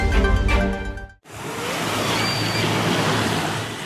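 Gentle, low waves at Jodo beach on the north coast of Java, heard as a steady broadband wash of surf after a brief break, with faint wind over it.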